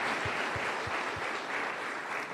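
A church congregation applauding in worship, steady dense clapping from many hands filling the room, loud and sustained throughout.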